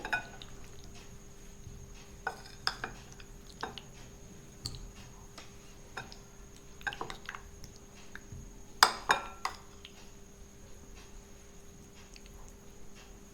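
Paneer for paneer tikka masala is shifted into another bowl in a home kitchen, giving a few faint, scattered clinks and taps of dishes and utensils over a quiet hum, with one sharper pair of clinks near the end.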